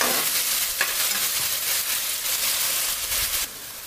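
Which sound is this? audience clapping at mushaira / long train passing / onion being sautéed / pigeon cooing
onion being sautéed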